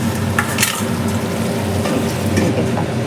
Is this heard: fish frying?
yes